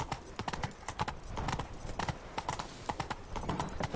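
Hooves of Roach, Geralt's horse in The Witcher 3: Wild Hunt, clip-clop in a quick, steady rhythm close by, the clattering footfalls continuous throughout.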